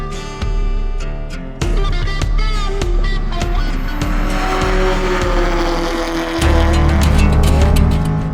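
A Hyundai Excel race car drives hard on a racing circuit in Tasmania, its engine droning steadily with tire squeal and a louder surge near the end, with no talk over it.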